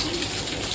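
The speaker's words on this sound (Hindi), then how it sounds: "बारिश इतनी हो रही है" Heavy rain falls in a constant dense hiss without a break, close and steady.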